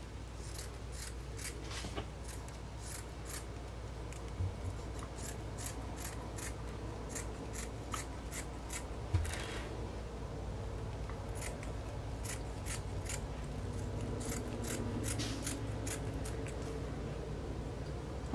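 Scissors cutting tulle for a ribbon trim tutu: a long series of quick, crisp snips close by, irregular in rhythm with short pauses, over a quiet steady hum.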